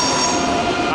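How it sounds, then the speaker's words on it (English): A red-striped ICE train passes through Köln Hbf with a steady metallic roar and a high wheel squeal, loud and close throughout, with no voices. "ICE train on the back."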